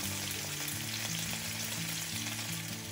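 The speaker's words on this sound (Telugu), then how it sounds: "దీనిలోనే మీ స్పైసీకి తగినంత పచ్చి మిరపకాయలు కూడా వేసి వేయించుకోవాలి" Raw tomato pieces and green chillies fry in a pan with a steady, even sizzle and crackle, heard close and unbroken throughout, with no voices.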